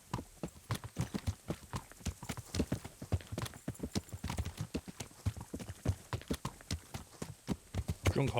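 Rapid, steady horse hoofbeats clip-clop throughout in Kingdom Come: Deliverance, crisp and close, with a faint whinny-like sound mixed in and no talking.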